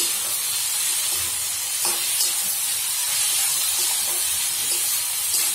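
Tomato sauce sizzles in a hot pan with spinach, giving a steady loud hiss and crackle close up, with faint stirring clinks, and no voices over it.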